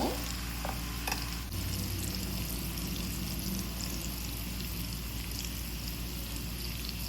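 Banana and mutton kola balls fry in a pan of oil with a steady, close sizzle, a brief clatter near the start, then continuous bubbling hiss.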